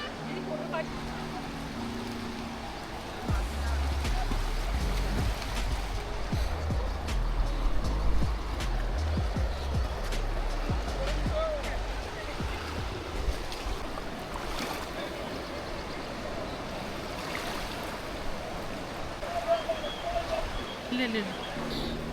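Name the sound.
Ganges river water flowing, rafting, Rishikesh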